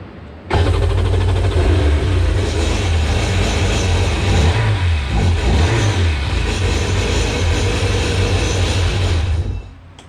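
A 2001 Sea-Doo GTX jet ski engine after a fuel pump fix cranks and catches, then runs loud and steady with a deep rough drone for several seconds before cutting off.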